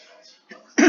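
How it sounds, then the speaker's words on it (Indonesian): A single short, loud cough bursts out near the end, following quieter murmuring, close to the microphone during an online lecture. "ya Bapak batuk ya"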